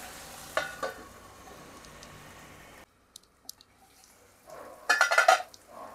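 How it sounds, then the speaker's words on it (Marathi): Tomatoes cooking in a pan for onion-free, garlic-free paneer bhurji get stirred after the lid comes off: a soft simmer, a few light scrapes, then a louder sizzling stir near the end. "अधनमधनं झाकण काढून आपल्याला नीट हलवून घ्यायचं आहे."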